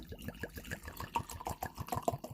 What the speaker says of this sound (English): Let's pour it on in there.